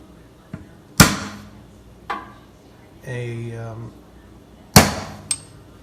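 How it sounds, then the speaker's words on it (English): Several sharp metallic taps, a hammer striking a punch to score a door, spaced irregularly, with a brief whirring tool sound between them. "Use a punch to score the door"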